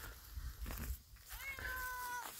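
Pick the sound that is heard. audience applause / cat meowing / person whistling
cat meowing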